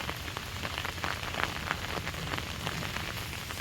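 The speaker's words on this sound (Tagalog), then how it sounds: "Sabi may bagyo, pero parang wala man, ulan lang." Rain falling on a mountainside during a typhoon, a soft, continuous patter of drops on surfaces with scattered louder taps, fairly quiet and steady throughout with no voices.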